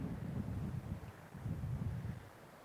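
Wind gusts across an open golf course, buffeting the microphone in a low, uneven rumble that swells and eases over a couple of seconds, with no other sounds standing out.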